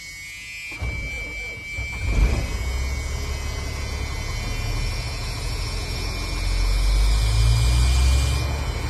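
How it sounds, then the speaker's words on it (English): A semi-truck's engine cranks and catches during a pre-trip inspection, then settles into a steady low idle that grows slightly louder toward the end, with a thin high whine running over the first part. "Now I will do a safe start and start the truck back up and get to above 60 psi"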